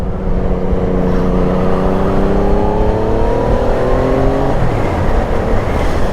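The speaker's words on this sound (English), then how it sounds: "I like the sound of the triple engine. Well done, Yamaha." A Yamaha XSR900 motorcycle's triple-cylinder engine drones loudly and continuously, its pitch climbing steadily before dropping sharply near the end, like a gear change.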